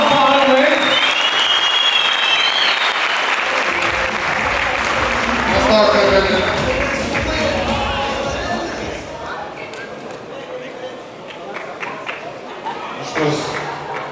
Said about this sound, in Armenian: ծափահարում ենք